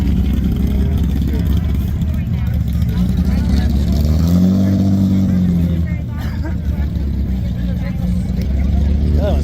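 Modified Datsun 280Z with newer bumpers, engine running rough and over-carbureted at a cruise car show, a steady low rumble with a swelling rev in the middle under constant crowd chatter.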